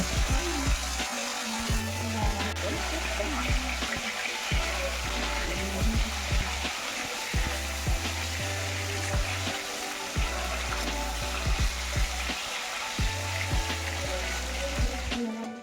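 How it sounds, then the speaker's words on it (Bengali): Katla fish pieces frying in hot mustard oil in a wok, a steady close sizzle with crackling, while low rhythmic background music plays throughout. "তো তোমরা দেখতেই পাচ্ছ মাছগুলোকে আমি কিভাবে লাল লাল করে একটু ওলট পালট করে ভালো করে ভেজে নিচ্ছি"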